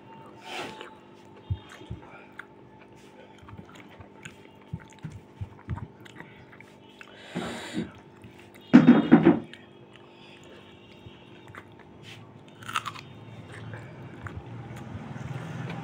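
A potato bitten and chewed with a few soft, close mouth sounds amid quiet room noise, then one louder, brief crunchy bite in the middle and faint chewing afterward.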